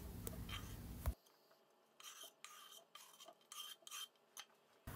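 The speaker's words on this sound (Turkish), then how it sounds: "Çikolata eriyene kadar karıştıralım." A spoon stirring dark chocolate into heated cream until it melts, giving soft intermittent scraping and swishing strokes against the pot, quiet and close, with no talk.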